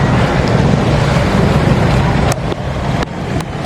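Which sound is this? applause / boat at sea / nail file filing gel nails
boat at sea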